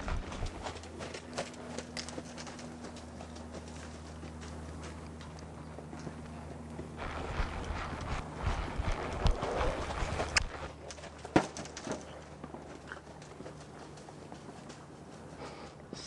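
Hooves of a relaxed horse clip-clop at a steady walking pace, moderately close, with a soft snort of breath standing out near the middle against low background rumble.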